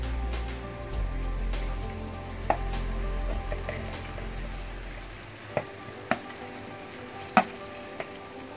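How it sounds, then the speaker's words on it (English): Shrimp or prawns fry in a pan with a steady, fairly quiet sizzle, broken by several sharp utensil taps and clicks near the end. "now this is the time to put some shrimp or prawns"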